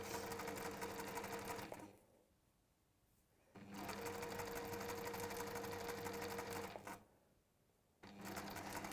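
A sewing machine stitching in a straight line, a steady close mechanical whir in two long runs separated by short quiet gaps, with a final run starting at the end.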